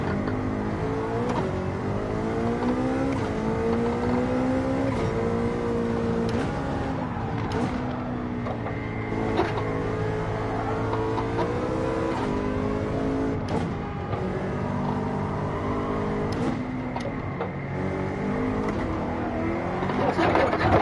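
A Bugatti racing in Gran Turismo 7 gives a loud, sustained engine roar that climbs and drops through gear changes over about twenty seconds, with no talk.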